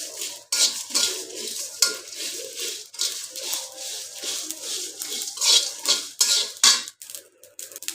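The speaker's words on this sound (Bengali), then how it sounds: "তো দেখতে পাচ্ছেন আমি এটাকে বেজে নিচ্ছি" Whole spices being lightly dry-roasted in a pan for olive pickle, with a utensil scraping and rattling against the metal in steady, close stirring strokes and a faint sizzle underneath.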